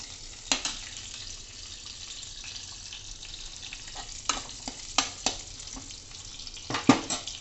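Onions frying in about two spoons of ghee in a pan for a dal makhani gravy, a soft continuous sizzle with several sharp utensil knocks and stirring clatters scattered through it.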